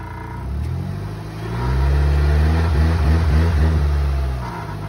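A Nissan Versa idles steadily at a vehicle auction as it is shifted into gear and eased forward and backward, its low engine hum swelling a little and holding loud and near.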